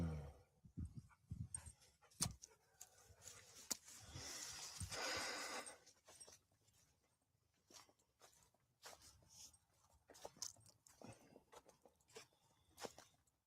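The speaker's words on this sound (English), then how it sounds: "Come give me some love, you wet dog." A wet dog snorts and whimpers close by in bursts over the span, with some shuffling, snuffling and movement noises, fairly quiet overall and without speech.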